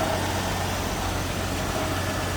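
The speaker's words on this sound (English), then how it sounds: "Now it has warmed up, so we're on low idle." A 1975 AMC Matador sedan's warmed-up 258 cubic inch engine idling low, a steady, even drone with a low hum, alone and without pauses.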